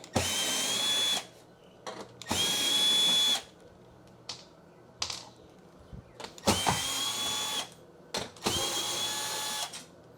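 A power drill backing screws out of an oven door, four loud whirring bursts of one to two seconds each with short pauses and faint handling clicks between them.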